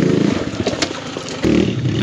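A big bore Kawasaki KLX140RF dirt bike climbs a rocky riverbed, its engine close and loud, surging unevenly with a brief drop before pulling hard again.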